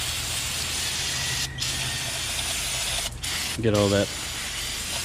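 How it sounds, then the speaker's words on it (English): Brake cleaner sprays onto a brake rotor during a front wheel bearing job on a Toyota Tacoma, a loud close hiss in several long bursts with brief pauses, and someone speaking briefly near the end. "I'm just going to clean off this rotor with a little bit of brake clean."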